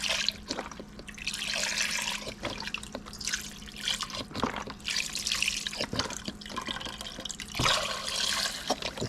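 Chicken stock pours and splashes steadily into a pot, with uneven gurgling bursts and a few sharper drips, no voices.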